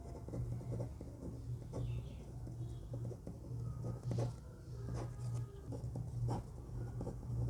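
Faint scratchy strokes of writing while solving a vector calculus problem, coming in short irregular bursts over a quiet room hum with a soft cooing in the background.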